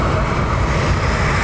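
An ATR turboprop airliner taxis at Dublin Airport with a steady, loud engine roar that fills the short stretch without a break.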